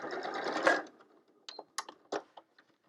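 Home sewing machine stitching a quilt, a dense continuous run of rapid stitches for under a second, then several short separate bursts as the fabric is turned and stitched off, close and fairly quiet.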